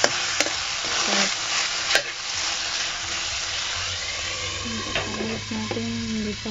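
Food browns in a pan with a busy sizzle and crackle, punctuated by a few sharp clinks and scraping stirs, close and steady throughout.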